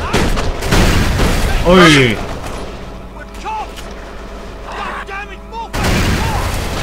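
Revolver shots ring out in the video game Kane & Lynch 2: Dog Days, landing as loud, sharp bursts amid game noise while a player talks and exclaims over them.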